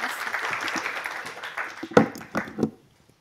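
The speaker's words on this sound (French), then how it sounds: "on applaudit tout le monde" An audience at a live advertising awards retrospective in Switzerland gives a short burst of applause, dense clapping that thins into a few last claps before fading to silence.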